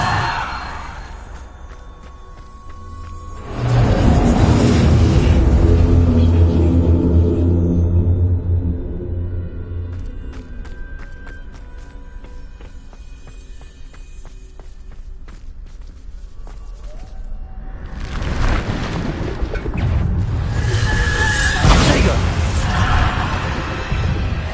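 Bombarda explosion spell in the Hogwarts Legacy video game, two loud blasts with deep rumbling booms and a long decaying roar between them.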